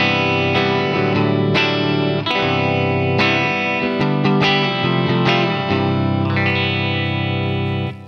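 Clean electric guitar played through a ToneX amp capture set like a Deluxe Reverb at low gain, ringing chords and picked notes with strong sustain, loud and up close with no talking.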